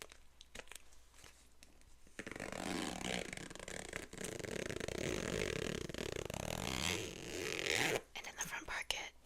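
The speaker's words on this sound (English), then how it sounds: "And then there's a zipper in the front." A zipper on a flute case's front pocket being pulled open, a long rasping slide running several seconds, close to the microphone and fairly loud, with brief quieter handling noises before and after.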